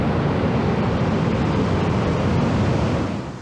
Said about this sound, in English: we can just relax and listen to the waves